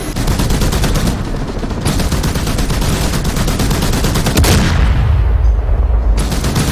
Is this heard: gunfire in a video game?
yes